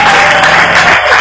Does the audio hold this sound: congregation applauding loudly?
yes